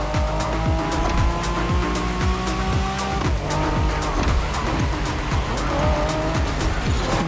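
Racing cars in a video game roar continuously with repeated engine sweeps as they pass, tires squealing and skidding over a dense, loud mix.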